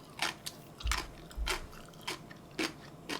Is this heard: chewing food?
yes